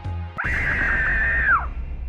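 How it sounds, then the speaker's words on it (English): A girl screams from her room in a single long, loud, piercing cry that holds steady for about a second before dropping off, following a brief bang. "Jamie screamed from her room."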